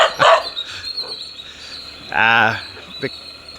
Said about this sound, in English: The dogs are not aggressive, they're just territorial.